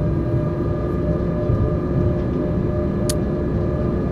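A train runs in Train Simulator 2020 on approach to Bonn Hauptbahnhof, giving a continuous, close rumble of rolling stock with a faint, steady tonal hum and one brief high click.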